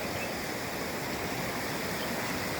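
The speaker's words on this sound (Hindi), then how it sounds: "पानी की आवाज़ इतनी ऊंची है ना, यहाँ पे हमें ऊंचा बोलना पड़ता है।" Rushing stream water pours loudly and without a break, a dense close roar that fills the whole moment, with no voices over it.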